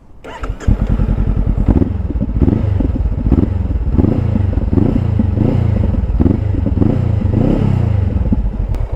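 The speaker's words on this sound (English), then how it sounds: "It has that growling of that typical 2-cylinder motorcycle." A Honda CB500F two-cylinder motorcycle engine fitted with an Akrapovic slip-on exhaust starts, then settles into a loud, close, steady growling idle with a pulsing beat and a few slight blips.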